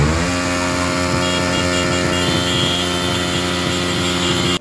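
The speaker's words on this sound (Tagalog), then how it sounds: "Habang kami naman, motor lang ang pangpaingay namin dyan mga paps." Motorcycle engines drone loud and continuous at a New Year gathering, a dense steady roar that holds throughout and cuts off abruptly at the end.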